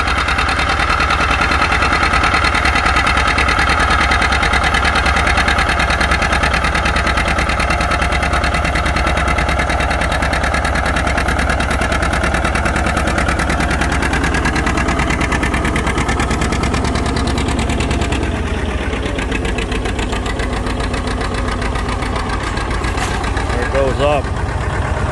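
A John Deere 820 tractor engine runs steadily and loudly throughout, pulling a plow at an antique equipment plow day, a low rumbling drone with mechanical clatter, while someone talks over it.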